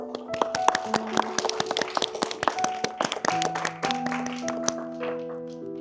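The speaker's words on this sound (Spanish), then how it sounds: "Un aplauso para Adriel." A congregation applauds for the newly baptized child Adriel during a baptism mass, a dense spread of clapping lasting several seconds while sustained organ-like or sung tones carry underneath.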